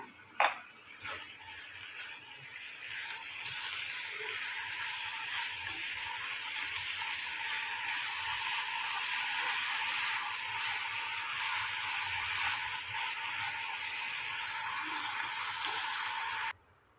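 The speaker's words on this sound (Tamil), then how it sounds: "இப்போ இதுக்கு தேவையான அளவுக்கு உப்பு சேர்த்து வதக்கிக்கோங்க" Chinese potatoes (sirukizhangu) sauteing with salt in a pan, a constant soft hissing sizzle that runs close and even, with occasional light ticks of stirring and no voices.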